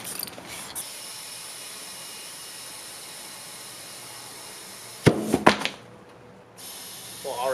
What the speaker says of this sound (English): Spray some lube.